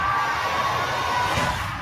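A crowd waiting for a stage show to begin, a dense steady roar of cheering and shouting voices that stays loud and continuous throughout.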